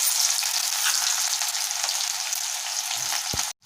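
Onion frying in hot oil with curry leaves, slit green chilli and garlic gives a loud, steady hiss that runs alone almost to the end, then cuts off abruptly.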